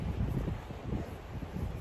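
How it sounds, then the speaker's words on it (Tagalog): Gusty wind buffets a microphone outdoors, a steady low rumbling roar with fluctuating bursts throughout and no voices. "mahangin."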